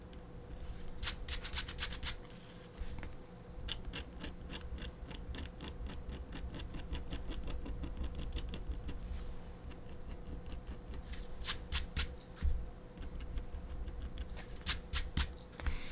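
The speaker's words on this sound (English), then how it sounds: "You got to keep scraping the paper away so that you can tell if it's come off all the way" Paper being scraped away from a greeting card artwork in quick, dry scratching strokes, with bursts of rapid rubbing and ticking that come and go over a faint steady hum.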